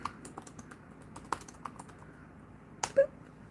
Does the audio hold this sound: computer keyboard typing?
yes